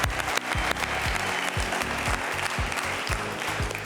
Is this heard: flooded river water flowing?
no